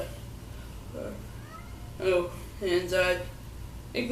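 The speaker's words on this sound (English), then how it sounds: "That's probably Cinnamon, one of my cats" A pet cat meows in the background of a quiet indoor room, giving a few short tonal calls, the clearer ones spaced out over a few seconds, moderately distinct against a low steady hum.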